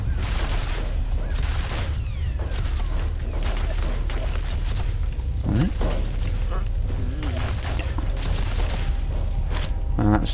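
Enemy gunfire in F.E.A.R.: rapid bursts of sharp shots crackle throughout, dense and fairly close, mixed with mechanical clatter and brief voices.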